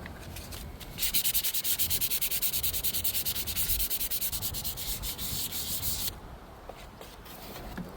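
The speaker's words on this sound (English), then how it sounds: "Again, I'm using my high grit, so very fine sandpaper." Cedar wood is hand sanded with very fine, high-grit sandpaper for coasters, making steady, rhythmic rubbing strokes close up for about five seconds, then stopping. No one speaks.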